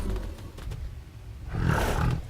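A white tiger in the game Final Fantasy 16 lets out a deep, rumbling roar that swells loudly near the end, following a low growl, close and with no speech.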